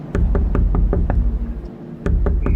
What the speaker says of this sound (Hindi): स्मिता की खिड़की पे जोर जोर से कोई खटखटाने लगा